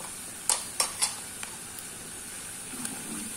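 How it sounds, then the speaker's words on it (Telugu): Onions frying with turmeric in a pan make a steady, quiet sizzle. A few sharp stirring clinks sound near the start, and no one speaks. "ఇలా పసుపు వేసుకుని మనం ఆనియన్స్ ఫ్రై చేసుకుంటే గనక తొందరగా ఫ్రై అవుతాయి"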